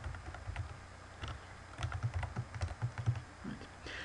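Close, soft clicks from a computer keyboard, first sparse and then a quicker run of repeated taps on the down arrow key, with no voices.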